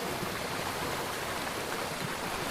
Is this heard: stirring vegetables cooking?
no